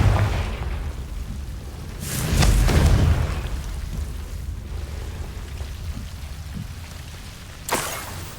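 A Confringo fire spell from Hogwarts Legacy lets off a booming blast with a rumbling burst, then a sharper crack a few seconds later, heard alone.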